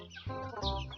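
A brief burst of close, low clucking from Kanawayin-line gamefowl hens, two quick throaty calls.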